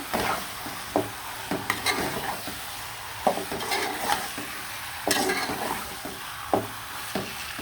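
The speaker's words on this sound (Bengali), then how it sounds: "ভালো করে নাড়াচাড়া দিয়ে মশলার সাথে মিশিয়ে নিলাম" Chicken pieces being stirred and fried with spices in a pan, with a low steady sizzle broken by a scrape of the spoon every second or so, close and moderately loud, with no talking.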